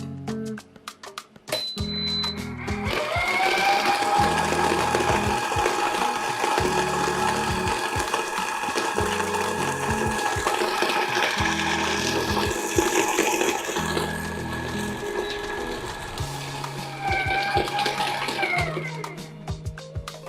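An electric mixer with a wire whisk whipping cream, a loud steady motor whir lasting most of the stretch, with rhythmic low knocks throughout and a brief pitch change near the end.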